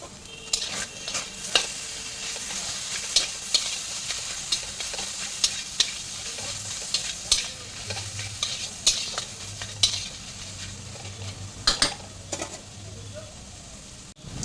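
Spices, ginger paste and a green chilli are stirred in a frying pan, with sharp, frequent spatula scrapes and clacks against the metal over a low sizzle. The strokes repeat irregularly for a long stretch, close and loud, with brief faint voice.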